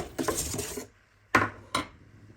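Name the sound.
baking tray and spoon handled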